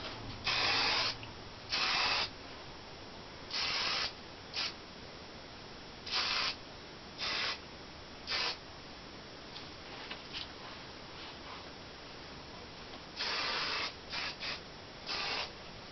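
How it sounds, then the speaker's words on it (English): Several short hissing bursts from a Revlon aerosol hairspray can, quick sprays separated by pauses, some in fast clusters, close by and otherwise quiet. "I'm going to shake and spray."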